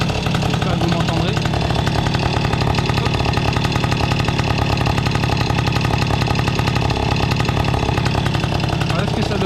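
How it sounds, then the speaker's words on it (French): A Peugeot 103 moped with a Simonini Stokey exhaust idles in a loud, buzzing two-stroke putter with slight popping, steady and close throughout, while a voice talks over it. "Donc comme tous les petits pots Simonini, il pétarade un petit peu"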